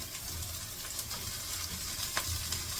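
Chopped onions sautéing in a pan, a steady soft sizzle with faint stirring scrapes, fairly quiet and continuous with no voices.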